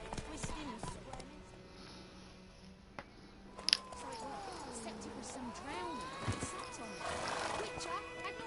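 Roach, a video game horse, neighs with a drawn-out whinny amid galloping hoofbeats, while voices speak over the game audio.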